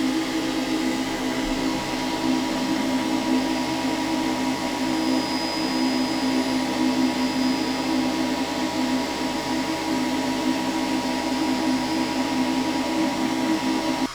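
A TOOCAA L2 laser engraver cuts material, its fans and motion system producing a steady, unbroken mechanical drone with a constant hum, close and even in loudness throughout.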